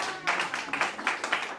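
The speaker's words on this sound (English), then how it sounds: "let's give this inaugural cohort a big round of applause" Applause for the inaugural Green Growth Kupu Corps cohort at their launch in Saipan: a modest crowd claps in a steady patter of hands, moderately close and continuing throughout the short stretch.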